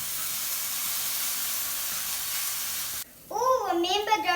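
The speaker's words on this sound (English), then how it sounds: "Gently fry your aubergines on each side and your mushrooms." Aubergines and mushrooms sizzle in a frying pan with a steady, soft hiss that holds for a few seconds before cutting off as a voice starts talking.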